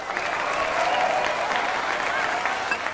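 Sustained applause from a crowd at a visa party in a Hindi film scene, an even continuous patter of clapping with faint voices mixed in.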